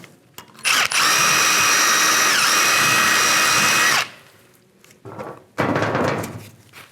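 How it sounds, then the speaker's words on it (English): A power tool whirs loudly and steadily for a few seconds, cleaning out rusty brake caliper guide holes on a 2008-2013 Nissan Rogue, then stops with clunks before spinning up again. "because this was fairly rusty, I'm going to clean these caliper"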